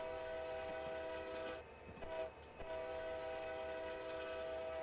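A locomotive horn blowing at a level crossing in Train Simulator 2015 on the Yellowhead Pass route near Cedarside, a long sustained chord held almost throughout with a short dip midway, over a low engine rumble.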